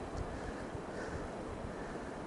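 Steady broadband rush of flowing creek water beside a steep mountain trail, constant and fairly close with no talking over it.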